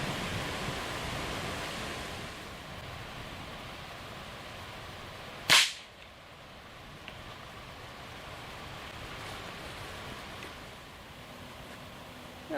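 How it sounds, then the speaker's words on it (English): A single sharp crack from a Henry lever-action .22 rifle firing into Masonite, one brief loud report midway between stretches of steady outdoor background noise. "Shooting my Henry lever action,"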